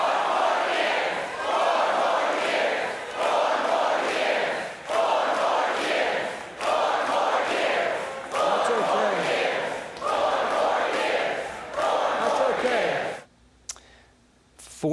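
A large political rally crowd for Biden chanting "four more years" in steady repeated waves, loud and continuous, before the chant cuts off abruptly near the end.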